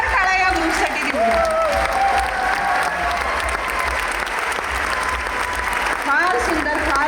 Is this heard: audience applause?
yes